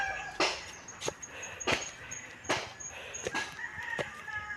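Chickens cluck and cackle while scratching at the grass outdoors, a handful of sharp calls repeating at irregular intervals over a quiet background, moderately close.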